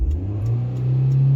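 A manual transmission car's engine revs up as the gas pedal is gently pressed, a steady close rumble that rises in pitch and grows louder over a short moment.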